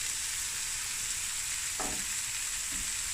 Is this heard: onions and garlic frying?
yes